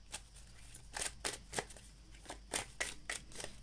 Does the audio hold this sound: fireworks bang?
no